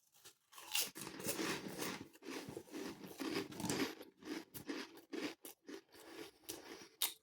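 Snackrite Bacon Sizzles crisps from Aldi crunch loudly between close chewing bites. The crackly, uneven crunches come in repeated bursts with short pauses, and no voice is heard.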